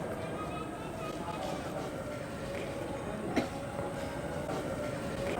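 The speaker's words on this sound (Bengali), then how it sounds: "প্ল্যাটফর্মে ট্রেন এসে লেগে গেছে" A train rolling into a station platform, a low continuous rumble with faint rail clatter and one brief sharp clank, heard at a distance with a busy background.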